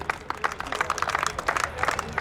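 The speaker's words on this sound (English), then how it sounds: "Big round of applause." Applause at the opening ceremony of the Malyali Premier League cricket tournament at Ultimate Sports Academy in Abu Dhabi: a small crowd claps briskly and steadily close by, with light voices mixed in.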